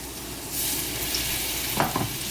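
Seasoned chicken frying in a pan gives a fairly quiet, continuous sizzle that rises after a moment, with a couple of brief clicks near the end and no talking.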